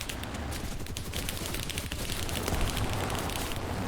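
Gunfire in a War Thunder tank battle against an I-15 aircraft: dense, rapid bursts of shots crackling continuously for a few seconds, loud and chaotic, with no voices.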